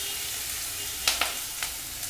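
Onion petals fry in a pan with a soft, faint sizzle, broken by a few brief sharp crackles and spatters partway through.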